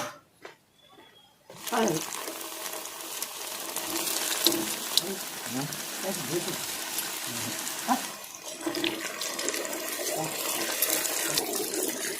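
Dal batti frying in hot oil, a dense continuous sizzle and crackle that starts suddenly after a quiet moment and carries on steadily up close.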